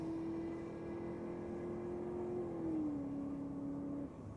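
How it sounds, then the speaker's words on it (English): A Holden Commodore drag car at Sydney Dragway accelerates toward the finish line, its engine holding a steady distant whine that drops in pitch with a gear change before fading. "Just getting into top gear before the finish line, I think."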